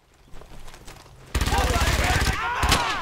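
Rapid bursts of gunfire from a World War II battle in Brothers in Arms: Hell's Highway, starting after a quieter moment and then hammering on loud and continuous, with machine-gun rattle under scattered game voices.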